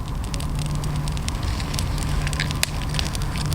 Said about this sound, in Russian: без бумаги, без каких-либо средств дополнительных я разжег костер